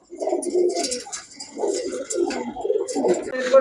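Several pigeons, among them coloured fancy breeds, coo steadily and close by in repeating throaty bursts, with light chirps and twittering of other birds mixed in above.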